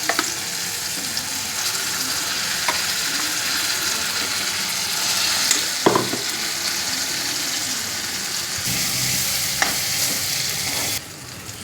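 Gongura chutney tempered with mustard seeds, cumin and dried chillies sizzles steadily in a pot, with occasional scrapes and knocks as a spoon stirs it. The sound carries on loud and continuous for several seconds, with no voices.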